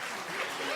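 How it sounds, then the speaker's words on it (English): Audience applause at a voting rights memorial event, a short burst of dense, even clapping filling the space. "Just give them another round of applause"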